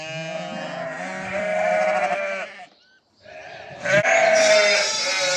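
Young first-lambing Tatali-breed ewes and their lambs bleat loudly and continuously in overlapping calls, falling silent briefly midway before a fresh burst of bleating resumes.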